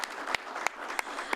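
Applause at an Albanian Independence Day flag raising in Rochester Hills, a steady patter of clapping from a modest crowd with a few sharper claps standing out, brief and moderately distant.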